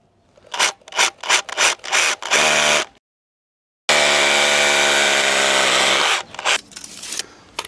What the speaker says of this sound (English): It just means I'm drilling it quite low down.